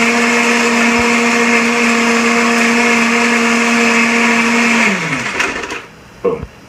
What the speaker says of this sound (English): That's the Omni blender, by the way.